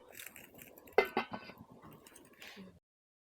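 A lid clinks down onto a cooking pot of vegetarian kofta curry, giving a few close metallic clatters and a sharper clang near the middle before the sound cuts off to silence.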